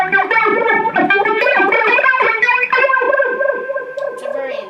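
Moog Moogerfooger 12 Stage Phaser set to high resonance sweeps intensely over a source sound, producing loud, swooshing, vowel-like filtered tones with a rhythmic pulsing movement, heard alone.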